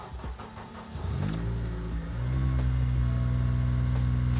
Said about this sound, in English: we're gonna take the car out, go for a spin